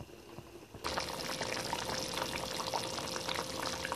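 A potato and chicken sauce bubbles in a pot, starting after a quiet moment into a steady close hiss and simmer with small popping bursts, no talking.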